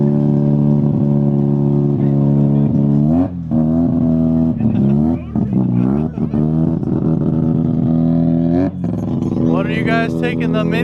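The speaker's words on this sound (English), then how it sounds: "some of those crazy sounding cars rolling in and out of the car show" Cars roll in and out of a car show, engines idling and revving with a strong harmonic drone that rises and dips, fairly close and loud, with people talking over it.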